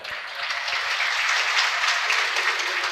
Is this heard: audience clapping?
yes